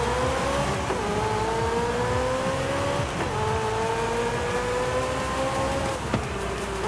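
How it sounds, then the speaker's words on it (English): A car engine in Forza Horizon 5 revs up in long rising sweeps, the pitch dropping sharply at each gear shift, three or four shifts in quick succession, loud and continuous. "I don't know what it is, but the gear shift noise for this car just, oh, it just gets me right in the good spots."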